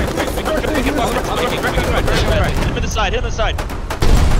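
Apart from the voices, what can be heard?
gun firing in Foxhole video game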